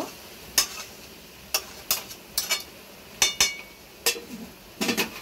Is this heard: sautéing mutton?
yes